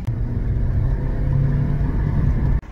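A car with a K-series engine pulls away on a test drive after a thermostat fitting, a steady close engine rumble with mild revving that cuts off abruptly near the end.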